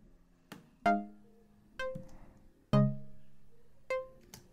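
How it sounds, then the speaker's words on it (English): Short plucky synthesizer notes from a Logic Pro X patch in an EDM arp setup, five separate plucks with sharp attacks and quick decays, spaced irregularly and heard alone with no talk. "And ours just sounds like little plucks."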